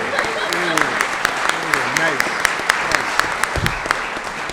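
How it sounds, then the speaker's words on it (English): Studio audience at a comedy quiz-game event gives a round of applause, steady dense clapping filling the whole stretch with some voices and laughter mixed underneath. "big applause."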